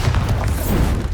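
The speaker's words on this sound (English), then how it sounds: "Bombarda!" A blasting spell detonates in the Hogwarts Legacy video game, giving a brief, heavy booming rumble with a dense low-end thump across the whole short moment.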